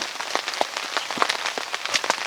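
Steady rain patters on a fishing bivvy during a carp session at Ratherheath Tarn, with dense, close drops ticking continuously across the canopy and no voices.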